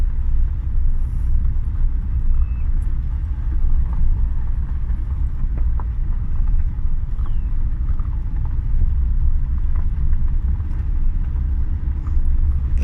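A Renault Scenic's engine drones steadily while driving, a continuous low rumble with road noise throughout, no talk over it.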